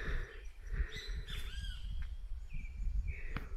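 Great kiskadee (bem-te-vi) calling in a forest, several bright, clear whistled calls and chirps over a low background rumble, moderately near with no talking.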